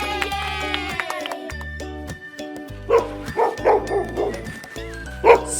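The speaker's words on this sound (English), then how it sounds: "It's a sled dog." A sled dog barks and yips in a quick string of short, loud calls close by. Bright music plays along underneath.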